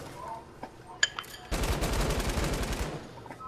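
Rapid automatic gunfire erupts in a video game, a dense burst of shots lasting about a second and a half after a few isolated clicks and impacts, loud and close.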